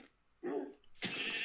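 Dogs in the Minecraft video game let out two short, sharp barks close by, one after another, with no speech.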